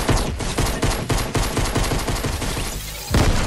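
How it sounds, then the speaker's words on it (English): Heavy gunfire in a Search and Destroy video game match: loud, rapid automatic bursts in a fast, relentless rhythm, close and dense, with a brief lull before another burst near the end and no talk. "You can just hear bullets firing so hard."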